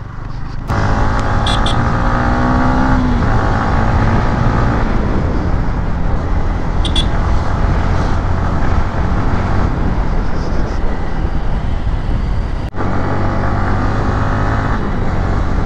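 A Yamaha MT-15 motorcycle is ridden at speed, its engine droning loudly and steadily throughout with wind rush, a brief shift in pitch near the start and a short dip late on.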